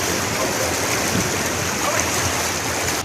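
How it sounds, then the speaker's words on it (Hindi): Floodwater surges along a road during a heavy nighttime downpour in Damoh, Madhya Pradesh, a loud, dense, unbroken rushing roar of water that holds steady throughout before cutting off at the very end. "यहाँ इतनी जोरदार बारिश हुई कि सड़क पर पानी उफान मारने लगा"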